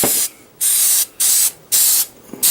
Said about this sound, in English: level 4 hairspray